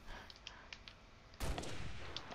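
A gunshot in Halo Reach custom zombie games: after a quiet stretch with faint clicks, a sudden loud burst of gunfire erupts and rolls on, close and harsh.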